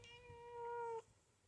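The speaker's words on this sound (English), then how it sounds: "My cat's here." A house cat lets out one drawn-out, steady meow lasting about a second, close by and clear, then falls silent, with no talking around it.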